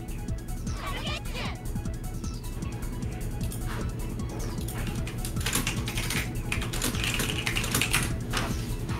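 Rapid clicking of typing on a computer keyboard runs through the whole stretch, steady and fairly close, with people talking over it during a game session.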